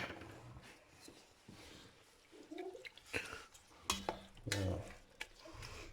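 Violet flowers being stirred in about 1.5 litres of water with a spoon for violet syrup, with soft swishing and a few sharp clinks of the spoon against the container, close and intermittent, with no talking.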